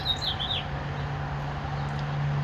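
A small orange bird sings a brief high, wavering chirp near the start over a steady low hum and hiss, faint and close.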